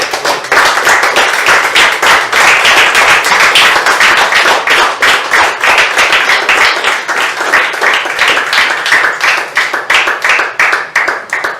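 A church congregation claps together in worship during a sermon, many hands striking in a loud, dense, fairly steady rhythm that continues unbroken for about eleven seconds without talk.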